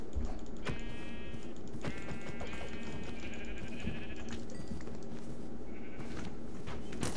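Sheep in the RLCraft video game bleat in several drawn-out calls over a dense, constant background of game noise and clicking keys.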